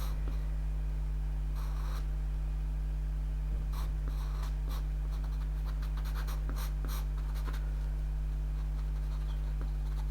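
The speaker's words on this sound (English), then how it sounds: "So just using the pastel pencil to shape down this ear." Soft pastel pencil shaping fur on a cat's ear across paper, heard as faint dry scratchy strokes in irregular short bursts over a steady low hum, close and quiet with no talk.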